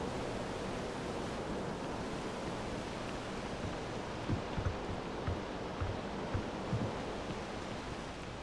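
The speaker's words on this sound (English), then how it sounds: "There's a waterfall." A waterfall in the Starfield game, a faint, continuous rushing hiss of falling water with a few soft low thumps.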